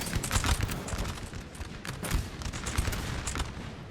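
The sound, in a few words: musket volleys in Napoleon Total War video game battle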